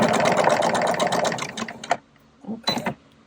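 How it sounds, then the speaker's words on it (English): A sewing machine runs a regular straight stitch across a quilt block, a close, rapid mechanical whir with steady needle ticks that stops near the two-second mark, followed by a couple of short clunks and a brief second burst. "Set it to your machine to the stitch that you want. And then I'm just going to stitch this with a regular straight stitch."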